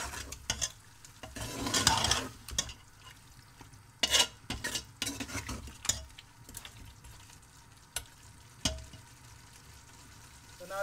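Goat meat stir-frying with spices in a pan for a homemade goat curry: irregular scraping and stirring strokes over a soft sizzle, fairly close and moderately quiet, with no talk.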